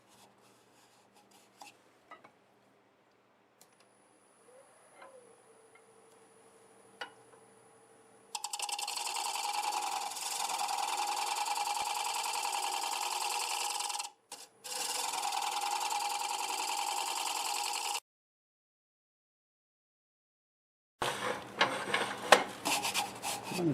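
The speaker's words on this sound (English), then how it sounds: "clean this up with the scraper." A scraper cleaning up a black locust bowl spinning on a wood lathe: quiet taps and a rising hum first, then long, loud, steady scraping runs broken by brief pauses.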